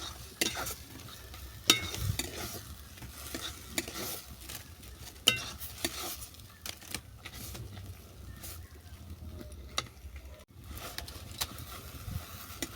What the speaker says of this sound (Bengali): এইভাবে সাঁকলটাকে আমি আরও পাঁচ মিনিট নেড়ে চেড়ে নেবো